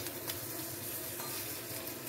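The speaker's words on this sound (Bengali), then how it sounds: "দেখো এই যে মৌরলা মাছ ভাজছি" Small mourala fish fry in hot oil in a home kitchen, giving a soft, continuous sizzle and crackle at moderate distance with no one talking.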